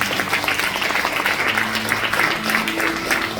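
Church congregation applauding during a sermon, a dense steady burst of clapping from many hands filling the short stretch, close and loud.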